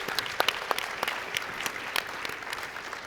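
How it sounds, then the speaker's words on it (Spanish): An audience claps at a round-table panel, a brief patter of applause that stays fairly faint and distant, with individual claps standing out. "Creo que hay que pedirle un aplauso a Fidel"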